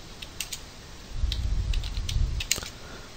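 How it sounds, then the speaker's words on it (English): Light clicking of keys on a computer keyboard comes in scattered taps and a short quick burst, faint and close against a quiet room hum, with no voices. "I'm just typing that in real quick"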